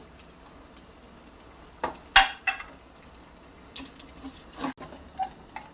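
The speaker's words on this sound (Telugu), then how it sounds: "కొబ్బరి ముక్కలు, జీడిపప్పు, కిస్మిస్ వేయించేసుకుందామండి." Coconut pieces fry in ghee for a festival rice-and-lentil prasadam, a soft low sizzle close by punctuated by occasional sharp clinks and scrapes of a utensil against the pan, with no voices.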